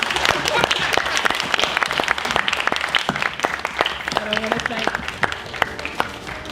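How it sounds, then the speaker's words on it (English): Dense, sustained applause from an audience thanking a panel at a 1968 high school desegregation discussion, steady clapping throughout with faint voices underneath. "Can we give them applause, please?"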